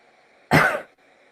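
A single short, harsh cough burst erupts loudly and close, imitated by a voice, then quickly falls back to a quiet room.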